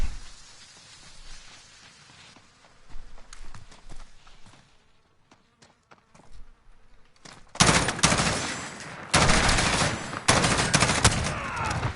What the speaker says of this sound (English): I was just shooting, I wasn't even looking at the target.